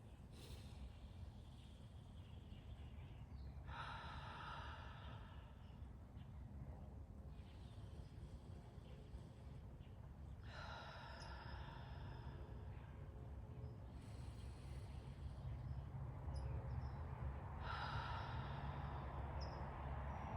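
Slow, deep meditation breathing, with several long airy inhales and exhales spaced a few seconds apart over a low steady background hum, soft and close with no talking.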